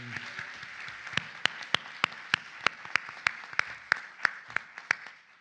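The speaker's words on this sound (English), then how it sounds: "they're not here, but we can still clap for them" Scattered, fairly quiet applause from an audience at a 2024 portfolio awards ceremony, a steady run of separate hand claps that sounds like a small group or a distant crowd.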